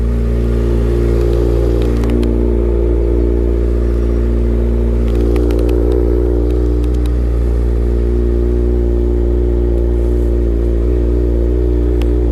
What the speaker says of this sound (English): So let the bike warm up just a minute while we back it out of the garage here.